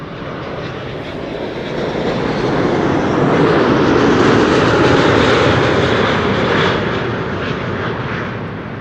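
Boeing 747-200 passing under a cloudy Dutch sky, its engines a broad, steady roar that swells to a peak near the middle and slowly fades, heard alone without talk.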